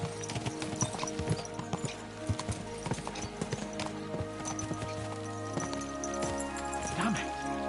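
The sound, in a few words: horses galloping, clip-clop of hooves, from Kingdom Come: Deliverance II video game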